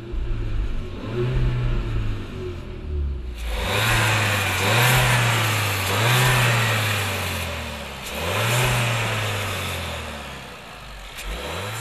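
SEAT Ibiza supermini engine accelerating on the road, heard alone: a steady mid-pitched drone that rises loudly after a short quiet start, climbing in pitch through several repeated revving surges with brief dips between gear changes.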